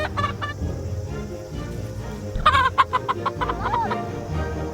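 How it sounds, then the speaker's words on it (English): A backyard flock of about fifteen chickens clucks nearby, with short, repeated clucks and cackles that grow busier and louder partway through over a low steady background. "trying to get all these 15 chickens is not, it's not easy."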